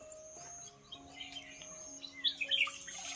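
Small birds chirp outdoors in short, high tweets that grow busier and louder toward the end, over a quiet background with a faint insect-like drone.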